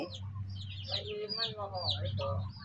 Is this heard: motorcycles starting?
no